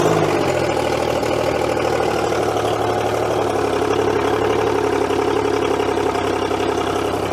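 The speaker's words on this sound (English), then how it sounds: "So that's been 2 years since we've started this motor." A motor long left unused for two years cranks into life and settles into a steady, loud idle, running continuously and close by with a low rumbling tone and no talk over it.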